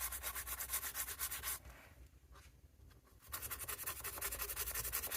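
Steady bristly scrubbing of a Victorinox Caddy Swiss Army knife with a toothbrush and soapy water, a rapid rhythmic rasp that breaks off briefly midway and then resumes just as hard, close and alone.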